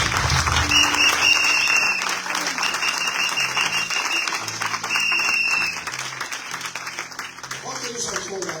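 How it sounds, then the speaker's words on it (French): A church congregation applauding and cheering at a worship service, a dense steady wash of clapping with voices mixed in that eases somewhat toward the end. "Acclamez très fort le Seigneur."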